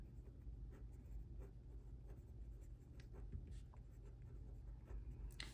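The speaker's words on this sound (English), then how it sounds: "so I'll write that down." A pen writes on paper while working through a physics problem, faint scratching strokes over a low room hum, with no talk.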